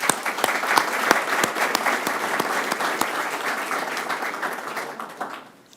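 A city council meeting audience applauds program graduates with sustained, even clapping from a roomful of people that tapers off and stops near the end.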